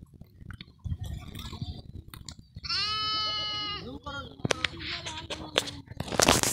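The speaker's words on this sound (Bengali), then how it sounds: "এখানে প্রচুর পরিমাণে গরু ছাগল রয়েছে, ভেড়া রয়েছে" Goats and sheep bleat at a livestock fair, one loud wavering bleat standing out close by amid other animal calls, while a person talks over the scene and brief knocks and rustles break in.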